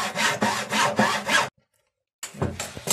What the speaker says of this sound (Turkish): Şimdi ise arkadaşlar matkapla deldiğimiz kısmın üst kısmını kesiyoruz